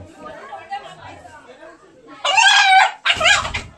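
A rooster is offered at a village goddess worship in a tribal community. It gives two loud, close crows in the second half, with quieter chatter and clucking before them.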